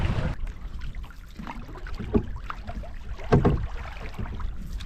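A loaded canoe is paddled on the wild Stikine River, with rhythmic paddle strokes dipping and splashing close by over a soft, steady wash of moving water.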